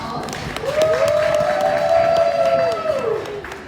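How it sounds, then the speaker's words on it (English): A crowd at an event claps and cheers for a woman, with a sustained whoop or whistle riding over the steady applause before it fades. "Give her a round of applause."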